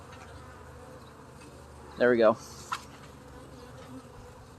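Bees buzz steadily around an open hive during a beekeeper's inspection, a low insect drone under quiet handling noise, while a person speaks briefly.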